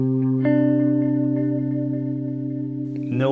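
Ambient guitar through a pedalboard on a Crystal Dream delay setting with no other delay or reverb: a sustained, shimmering chord that rings steadily with chorus-like echoes, then a fresh strum near the end.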